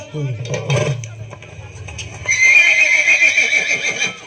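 A horse whinnies loudly and close at a crowded Karuppasamy temple festival, followed by clopping hooves and a shrill, busy crowd din with voices shouting underneath.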